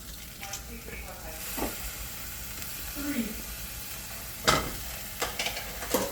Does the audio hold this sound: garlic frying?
yes